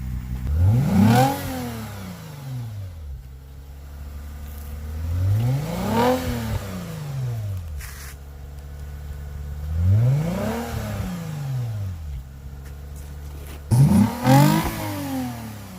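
A Lexus IS250 engine with an Invidia Q300 axle-back exhaust revs up and falls back repeatedly, four swelling throaty pulls from a deep exhaust, loud and close with idle between.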